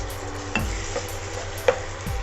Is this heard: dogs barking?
no